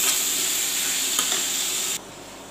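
Small puti fish sizzle and crackle steadily in hot oil in a home kitchen pan, a dense close hiss that cuts off abruptly near the end.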